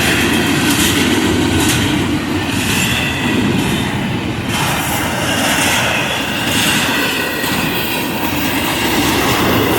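A speeding 202-axle freight train at about 49 miles an hour roars through a grade crossing, giving a loud, constant close-up rush of wheels and engine noise with rattling cars and no talking.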